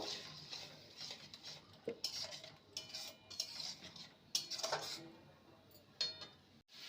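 Fennel lady finger masala being stirred in a pan: faint, close scraping and clinking of a utensil against metal in irregular strokes, quiet throughout.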